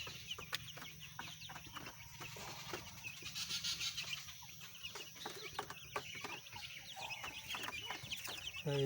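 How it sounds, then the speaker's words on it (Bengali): Ten- to eleven-day-old broiler chicks and hens clucking and peeping steadily at close range on sawdust bedding, with soft rustling and scattered chirps throughout. "মুরগিগুলো আজকের সেই উপরের থেকে নিচে নামায় দিলাম"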